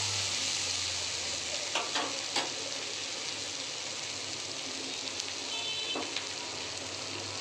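Mixed vegetables frying in a pan with cumin powder about to go in, a steady broadband sizzle with a few sharp crackles and pops, fairly close and alone with no talk.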